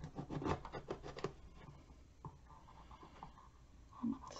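A knife cuts carefully through a pepper along one of its ridges near the middle, giving a short burst of close scraping and crunching strokes that then trails off into quieter rustling.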